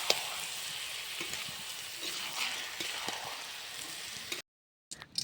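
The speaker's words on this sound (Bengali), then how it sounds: "এর মধ্যে একটু হলুদের গুঁড়ো আর একটু নুন, এটা দিয়ে ভালোভাবে ভেজে নিচ্ছি" Rice and lentils for khichuri frying in ghee with turmeric and salt make a soft, steady sizzle with light stirring scrapes. The sound cuts briefly to silence near the end.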